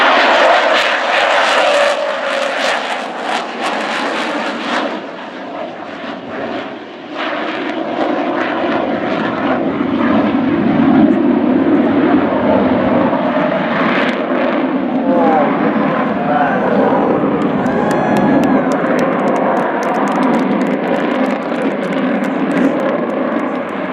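An Avro Vulcan XH558 jet bomber flies slowly past at the Farnborough air show, a loud, continuous roaring engine rumble that builds and holds throughout.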